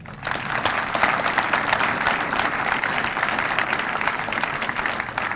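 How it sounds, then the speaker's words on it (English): Graduates at a university electrical and computer engineering graduation ceremony give themselves a big round of applause, a dense, steady wash of many hands clapping that holds loud and even throughout, with no talk over it. "I'm going to ask the graduates to give themselves a big hand of applause."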